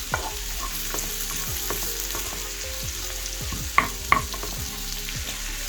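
Dried fish chutney ingredients frying in a pan: a constant close sizzle with frequent utensil scrapes and two sharp metallic clinks near the end, no talking.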